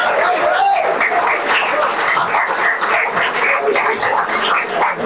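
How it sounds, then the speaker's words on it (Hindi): A crowd of students claps loudly and steadily to welcome guests at a campus youth day celebration, a dense continuous roar of hands with some background commotion. "मेरा निवेदन है कि जोरदार तालियों से श्री राजेश बडाना जी, श्री सुरेंद्र रावत जी और डॉक्टर सुनील कुमार का स्वागत करें।"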